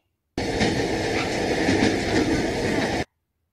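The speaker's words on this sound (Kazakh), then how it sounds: "Поезд." A train rolling past with a continuous rumble and faint rhythmic clickety-clack of wheels on rails, starting and stopping abruptly.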